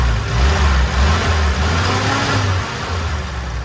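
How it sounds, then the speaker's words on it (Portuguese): A 1974 Willys Rural with a six-cylinder engine idles smoothly and steadily, a low, even rumble with a slight rise in the middle, close by and with no voices over it. "Tu quase não ouve o barulho do motor"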